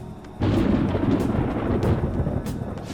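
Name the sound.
thunder before rain in the Persona 5 Royal video game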